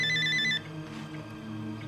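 Electronic telephone ringtone chirping in a steady repeating pattern for about half a second, then cutting off, leaving quiet room tone and soft background noise.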